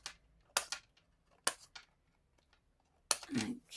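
Scissors snip through foam dimensional adhesive pads in a few quick, close cuts spaced across a quiet moment, with a louder rustling handling sound at the end.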